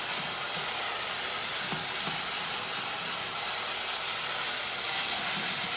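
Wine evaporating in a risotto pan with zucchini, a steady, loud sizzle and hiss that holds unbroken for several seconds with no talk over it.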